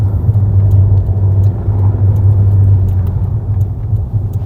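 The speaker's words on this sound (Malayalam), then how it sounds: "റോഡിൽ മുഴുവൻ ഈ പറഞ്ഞ പോലെ ഷവർലെറ്റിന്റെ വണ്ടികളാണ്" Chevrolet cars drive along a winter road in Uzbekistan, making a continuous, loud, low engine and tyre rumble close by, with no talk.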